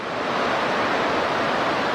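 The Zambezi River plunges over Victoria Falls into the first gorge, making a loud, dense, unbroken roar of falling water that sounds close and constant, with wind buffeting mixed in.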